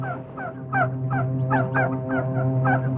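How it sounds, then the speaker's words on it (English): Migrating geese calling as they fly north over a beaver swamp: a steady run of harsh, rhythmic honks repeating about every quarter second, fairly loud and close, over a low continuous hum. "Only sign of animal life was the geese migrating north for the summer."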